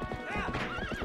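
Horse hooves clip-clop while riding in Zelda: Twilight Princess, with a loud, wavering whinny sliding over the steady hoofbeats, all close and clear with no talk.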